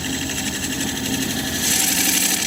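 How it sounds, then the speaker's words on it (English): A wood lathe spins a hard dogwood dish while a recess tool cuts a dovetail. It makes a steady, close whirring scrape with no speech, growing brighter and slightly louder toward the end. "I'm going to use my recess tool to finish it up"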